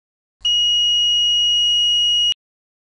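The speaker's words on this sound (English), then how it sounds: "This subsequently gives a visual and audible alarm at the remote alarm panel." Audible alarm at a preaction sprinkler system remote alarm panel: a single steady, piercing electronic tone sounding for about two seconds, loud and clean with no other sound.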